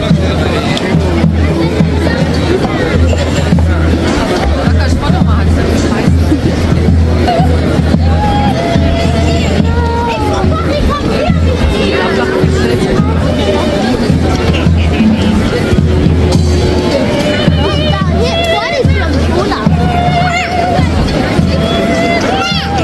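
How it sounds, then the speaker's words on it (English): Dense crowd hubbub fills an outdoor Christmas market in Esslingen, Germany, with many overlapping voices, footsteps and a low steady hum, loud and continuous throughout. "Crowd at Christmas market proved the popularity of Esslingen Christmas market"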